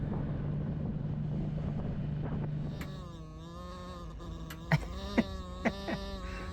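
A door whistles in strong wind at a dispersed BLM campsite on Antelope Creek Road, a wavering, sustained tonal whine that rises and bends over a low wind rumble, with a few sharp knocks near the end.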